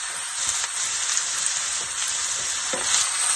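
Onions fry in hot oil for butter chicken with a constant bright sizzle, close and steady, with a few faint utensil taps and no speech.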